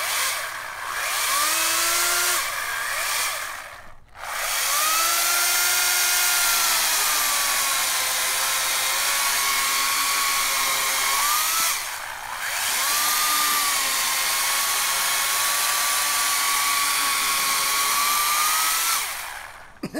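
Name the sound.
14.5 amp electric chainsaw running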